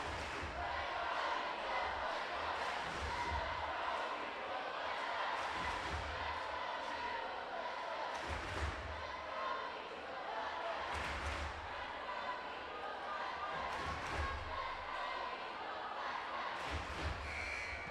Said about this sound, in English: You hear the crowd, they are fired up, they are pumped up.